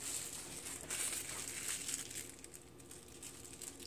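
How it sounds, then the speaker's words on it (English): A plastic bag is worked down over a jar of lacto-fermenting ramps, giving soft continuous crinkling and rustling close by, with no talk. "Put my other plastic bag."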